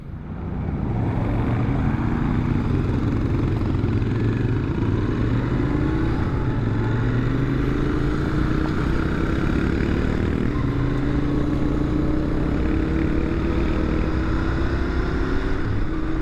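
A 2021 Royal Enfield Int650 motorcycle rides along a road with a continuous, steady engine drone whose pitch slowly rises and falls. It is heard up close and alone for the whole stretch.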